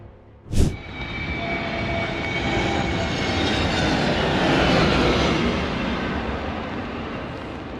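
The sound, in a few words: Bangladesh Air Force combat trainer aircraft taking off again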